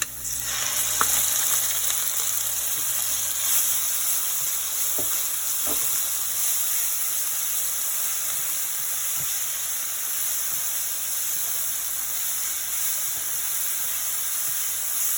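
Ginger and garlic frying in hot oil for mushroom biryani, a steady loud hiss and sizzle that runs unbroken throughout, with a few faint clinks of stirring near the start and no voices.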